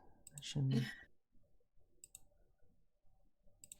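A computer mouse clicks during PC play of the 1998 strategy game Star Wars Rebellion, giving a few faint, crisp single clicks spaced apart, with a short burst of speech and quiet game sounds around them.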